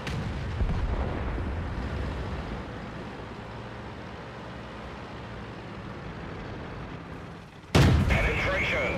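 In a video game, a heavy explosion destroys an enemy vehicle: a sudden loud blast near the end follows rumbling gunfire and engine noise.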